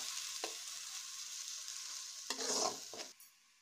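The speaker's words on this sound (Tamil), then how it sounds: "நல்லா வதக்கிக்கலாம்." Ground masala paste sautéing in a pan for fish curry with tomato, curry leaves and coriander, a steady close sizzle broken by a few scraping stirs of the spoon, and no voices.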